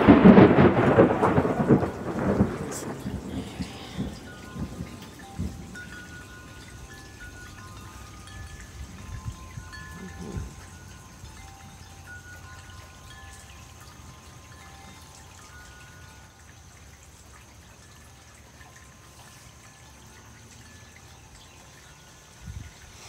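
Raindrops fall steadily outdoors during a thunderstorm, with a heavy rumble of thunder at the start that fades into a soft, continuous patter of rain for the rest of the stretch, with no talking.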